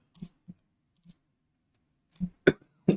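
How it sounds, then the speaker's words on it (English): Several short, throaty coughs from a sick man: three softer ones spaced apart early on, then a cluster of three louder, harsher coughs near the end, close to the mic. "Sorry, you're gonna hear me keep coughing."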